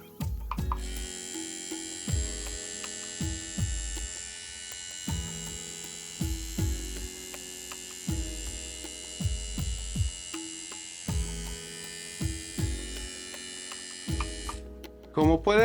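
A rotary tattoo machine runs with a steady high buzzing whine, close up, under a repeating low thumping pattern.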